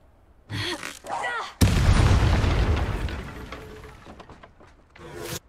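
A Bombarda spell in Hogwarts Legacy erupts as one loud, deep boom that rumbles and slowly fades over several seconds. A voice is heard briefly before the blast, and there are faint game sounds near the end.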